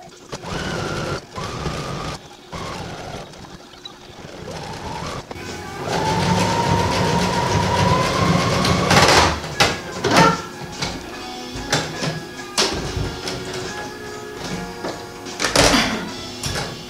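A sewing machine hemming a skirt made from T-shirts, a steady mechanical whirring hum in stretches broken by pauses, handling clicks and fabric rustle, close up.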